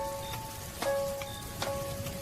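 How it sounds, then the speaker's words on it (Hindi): Heavy rain falls steadily on a surface, a dense continuous patter with a few sharper drops standing out, heard alone without voices. "रिक्शा चलने के कुछ ही समय बाद ही तेज बारिश शुरू हो जाती है।"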